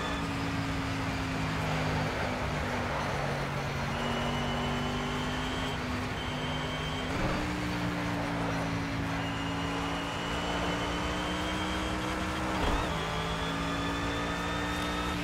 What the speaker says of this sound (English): This car makes very pretty noises.